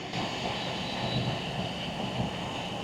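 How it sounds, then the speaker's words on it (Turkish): Air blows steadily from a car's climate system while its air conditioning flaps cycle through a reset, producing a constant broadband whoosh and hum with no talking. "havanın değişme sesi, yön verme sesi, klepe sesleri hepsini duyuyorsunuz"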